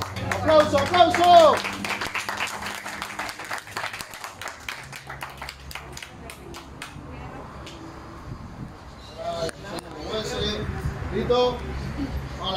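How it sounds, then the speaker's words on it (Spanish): Audience clapping and cheering at a rap battle event, starting loud and rowdy with voices in the crowd, then thinning into scattered claps under an announcer's talk before swelling again. "¡Aplauso, aplauso!"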